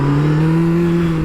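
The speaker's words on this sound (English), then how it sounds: "I want to give you guys a few revs. This thing sounds awesome. Factory exhaust." A Honda CBR 600 sport motorcycle on its factory exhaust revs loudly and steadily up close, a continuous engine drone holding a sustained pitch with no talk over it.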